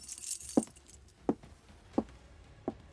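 A set of keys jangles inside a dark building, giving four evenly spaced, fairly faint clinks over quiet background hiss.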